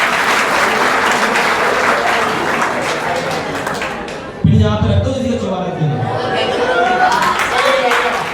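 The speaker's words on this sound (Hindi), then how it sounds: "एक बार तालियां" Applause from a student audience at a college motivational session in Greater Noida after a balloon-and-pin game, a dense clapping wash that swells loud midway and runs throughout with voices mixed in.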